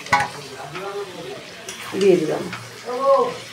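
Marinated chicken sizzles loudly in a hot pan as it is stirred, with a few swelling bursts of frying and scraping; a voice speaks briefly underneath.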